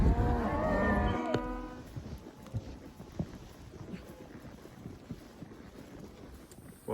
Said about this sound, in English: these cows are getting pretty eager to be somewhere, get some food.